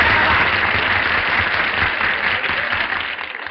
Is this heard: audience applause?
yes